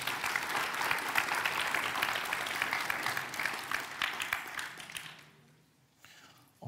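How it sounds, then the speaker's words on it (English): An audience at a junior chef cooking competition claps steadily, a thick, fairly quiet wash of applause that holds for about five seconds, then dies away quickly, leaving near silence and a faint sound at the end. "So give him another big round of applause."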